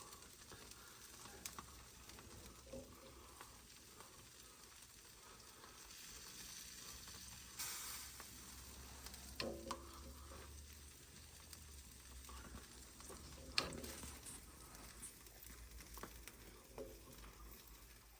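Country style ribs with sauce sizzling on a hot cooker outdoors, a faint steady frying crackle with occasional small pops and brief clatters.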